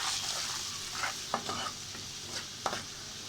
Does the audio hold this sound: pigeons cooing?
no